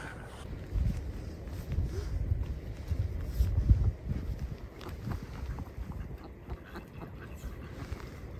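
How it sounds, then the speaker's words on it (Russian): Outdoor wind rumbles and buffets the microphone at the edge of a park pond with ducks, a steady low roar that swells and eases over several seconds, with no voices. "и ветер, и как раз ветер"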